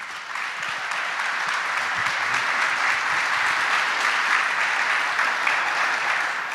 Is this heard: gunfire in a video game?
no